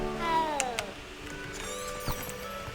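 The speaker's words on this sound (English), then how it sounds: "Oh, you can pet the cat!" A cat meows in the video game Hogwarts Legacy, a drawn-out falling meow followed by a second rising one, heard close over a soft game ambience.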